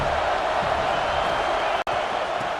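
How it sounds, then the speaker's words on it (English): Steady broadband roar of a stadium crowd at a football game, continuous and even throughout, with one brief dropout near the end. "This crowd knows when to bring it."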